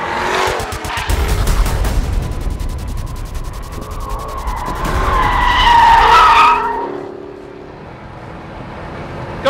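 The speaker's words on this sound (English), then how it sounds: "Then you can let that 495 horsepower V8 just rasp its way into good use." Jaguar F-Type with a 495-horsepower V8 driven hard on a track: a loud, rasping engine rises through the revs with squealing tyres as it corners, then fades away near the end.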